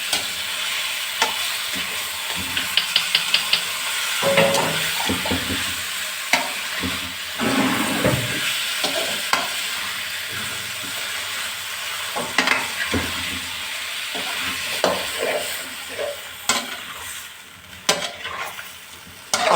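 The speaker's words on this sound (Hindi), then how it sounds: "अब हम इसको अच्छे भून रहे हैं मुर्गी को" Chicken sizzles steadily as it fries in a pot while a utensil scrapes and stirs through it again and again, close by and fairly loud.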